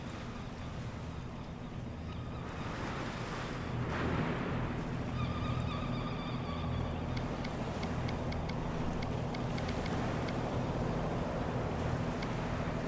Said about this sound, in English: we got to turn the engine on, raise the anchor